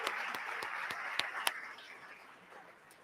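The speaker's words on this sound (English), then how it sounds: "Let's give them all a round of applause for joining us" A small audience applauds panel guests from the Attorney General's Office and the ACLU of Ohio at a community forum. The clapping is dense and mid-distance, with a few sharper claps standing out, then it thins and fades away.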